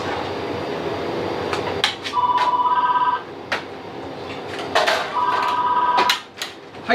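Telephone rings twice in a busy restaurant, each ring a steady electronic trill lasting about a second, over kitchen clatter and background din.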